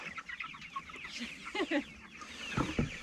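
Chickens cluck and squawk in a farm coop during evening chores, a busy run of close, overlapping calls with a few louder bursts near the end.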